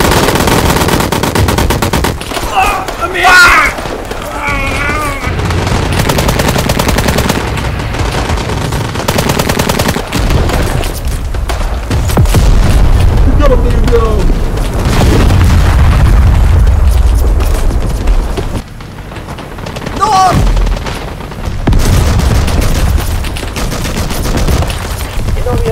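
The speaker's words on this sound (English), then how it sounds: "Suppressing fire!" Battle in the war game Call To Arms, with dense machine-gun bursts, gunfire and heavy explosions rumbling throughout, loud and chaotic, with voices shouting in places.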